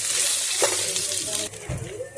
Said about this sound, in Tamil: நல்லா அதை கொஞ்சம் வறுத்துக்கோங்க ஃப்ரெண்ட்ஸ்.